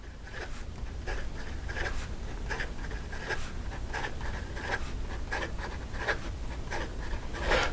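A broad-nib Platinum President fountain pen, slightly scratchy, scribbles quickly across paper in a steady run of short, rhythmic strokes, close up and with no voices.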